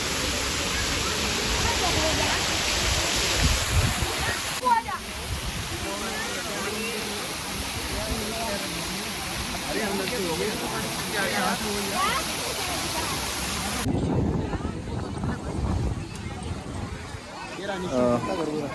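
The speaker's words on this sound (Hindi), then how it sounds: "और पानी गिर रहा है इस प्रकार" Water pours steadily over a Govardhan hill display at Prem Mandir temple in Vrindavan, a continuous rushing splash heard under the murmur and chatter of a crowd of visitors, with the noise easing slightly near the end.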